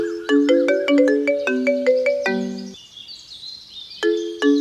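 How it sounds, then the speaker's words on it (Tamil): A mobile phone ringtone plays a bright, repeating melodic tune of chiming notes, loud and close, pausing briefly before the phrase starts again, with no talk over it. "இந்த மாதிரி நேரத்துல தான் ஃபோன் பண்ணி தொந்தரவு பண்ணுவாங்க"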